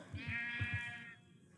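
A Minecraft sheep gives a short, clear bleat, loud and close, in a quiet game scene with no talking.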